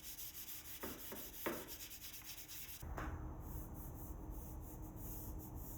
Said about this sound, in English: give it a light sanding with a clean white pad.